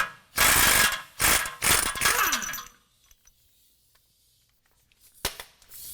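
A ratchet wrench backs out a torsion bar key bolt during a lift kit install on a 2017 Chevrolet Silverado 2500 HD: several loud close bursts of rapid clicking, then near silence and one final click.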